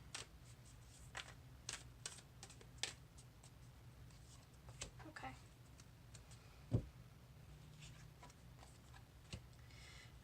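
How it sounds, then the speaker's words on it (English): Oracle cards shuffled by hand give soft, sporadic riffles and taps, faint and close, with quiet pauses between bursts. "I'll shuffle one more time."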